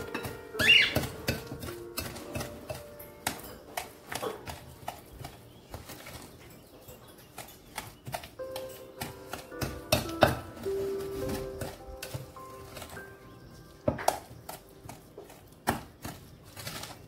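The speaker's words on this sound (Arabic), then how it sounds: "ونستمر بالخلط حتى تعطينا الزبدة كالكريمة، الزبدة مع السكر" Butter and sugar get mixed together in a bowl for coconut and orange biscuits, giving irregular clicks, scrapes and soft taps from the utensil against the bowl at moderate volume.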